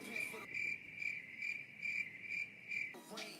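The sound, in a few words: crickets chirping sound effect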